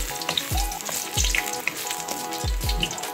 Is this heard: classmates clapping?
no